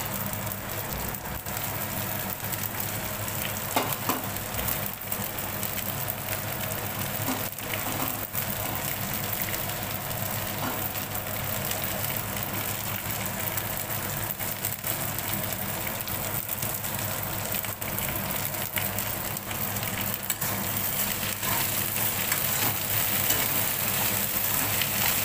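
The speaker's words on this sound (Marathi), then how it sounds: "भेंडी पण चांगली परतून घ्यायची." Okra sautéing in a pan with onions, a steady, even sizzle and crackle that holds at a constant moderate level throughout, with no voices.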